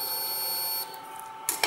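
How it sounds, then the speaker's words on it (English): A multimeter's continuity tester sounds a steady, high electronic tone while probes touch a circuit connection, cutting off partway through, followed by a couple of faint clicks. "as I connect at this point there is beep"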